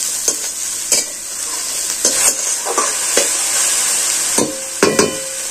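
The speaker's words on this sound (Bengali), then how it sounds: "আবার এটাকে নাড়াচাড়া করে একটু ভেজে নেব।" A vegetable filling stirred and fried in a pan: a steady bright sizzle throughout, broken by several sharp scrapes and clacks of the spoon against the pan at irregular intervals.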